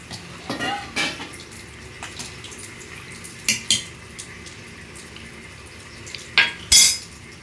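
A tamarind, chili powder and salt mixture is stirred vigorously in a metal vessel, giving a scraping, sloshing sound with a few louder clanks of the utensil against the pot, close up over steady background noise.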